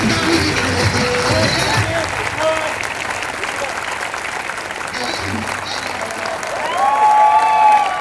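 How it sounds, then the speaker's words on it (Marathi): Loud, sustained applause from an audience at a youth-division demonstration event, dense clapping running throughout with a swell near the end and voices mixed into the crowd noise. "प्रचंड टाळ्यांचा कडकडाट झाला पाहिजे"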